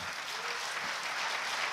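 A conference audience applauds in dense, continuous clapping that stays steady and fairly distant through the whole moment.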